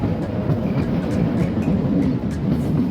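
Train running on the railway, heard from onboard as a steady loud low rumble with rhythmic wheel clicks over rail joints throughout.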